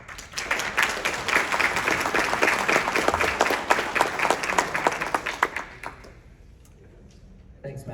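An audience applauds an award recipient at the Neil Frank Award ceremony, sustained clapping close and full for about six seconds before cutting off, followed by near silence and a short voice.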